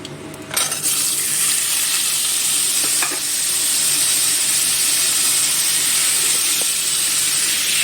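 Potatoes frying in oil for stuffed bitter gourd curry: a sharp clatter as they go in, then a strong continuous sizzle with occasional light scrapes, close and loud, with no talking.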